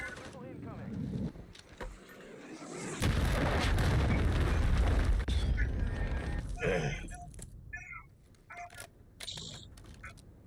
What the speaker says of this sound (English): Hostile missile incoming.